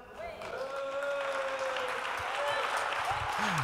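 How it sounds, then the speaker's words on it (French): A soft wash of scattered clapping from a spread-out audience in a large conference hall at a European tech event swells gradually, with voices and tonal murmuring layered over it. "donc si vous pouviez juste applaudir"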